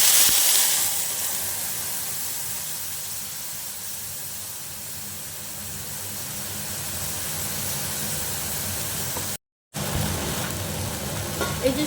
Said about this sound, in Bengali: এই যে সর্ষে পোস্তটা একটুখানি কষিয়ে নিচ্ছি